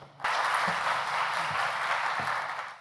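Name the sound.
audience applause welcoming a speaker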